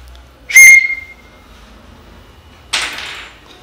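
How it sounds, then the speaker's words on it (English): A 3D-printed plastic whistle gives a short, shrill blast, followed a couple of seconds later by a breathier, airy puff, both close and loud against a quiet room. "And this is the whistle I printed."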